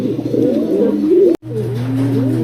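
Pigeons coo steadily in a loft, with soft overlapping throaty calls close by over a low constant hum, broken by a brief silent gap before the cooing resumes.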